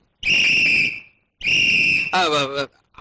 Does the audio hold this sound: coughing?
no